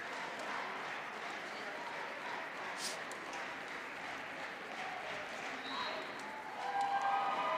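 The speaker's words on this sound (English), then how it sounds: "we can hear the huge Fruitland crowd clapping, hooping and hollering about how happy they are that it's going their way right now" Home crowd at a Fruitland versus New Plymouth high school football game, heard from outside, clapping and cheering in a continuous distant roar that swells louder near the end.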